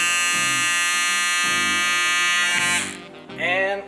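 A Babyliss electric hair clipper motor buzzes steadily, high-pitched, loud and close, shifting pitch slightly partway through as if the device is moved or handled.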